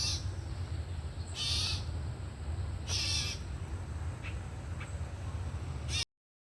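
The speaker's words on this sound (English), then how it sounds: "I ran into a very angry bird." A bird calling in the woods, with two loud harsh bursts standing out over a steady low rumble of wind, followed by a couple of fainter distant calls before the sound cuts off.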